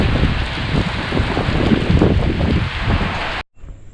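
Rain pours during a motorcycle trip in Vietnam, a loud, dense hiss with rumbling wind buffeting the microphone, steady for several seconds before cutting off abruptly.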